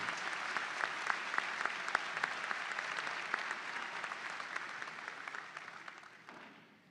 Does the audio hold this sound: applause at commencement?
yes